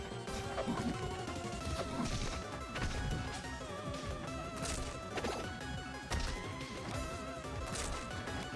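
Up smash attacks land in a Super Smash Bros tournament match, repeated sharp crashing hits over busy game music and effects, with several strong impacts scattered through.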